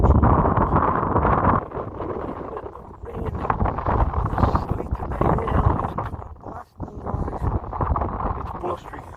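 Blustery wind buffets the microphone on a Lake District hillside, giving loud rumbling gusts that rise and drop, with a voice partly heard under the roar.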